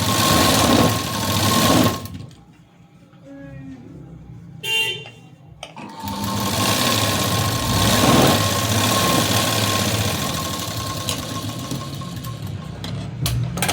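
A sewing machine stitches the lining into a cotton blouse, running in loud mechanical bursts with a whirring motor hum, stopping briefly in the middle before starting up again and running steadily.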